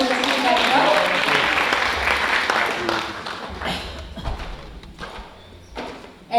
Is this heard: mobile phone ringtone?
no